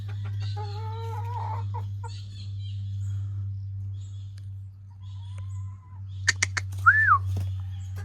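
A young gamefowl stag on a game farm clucks and calls in short, fairly close bursts over a steady low hum, ending with a louder rising call near the end.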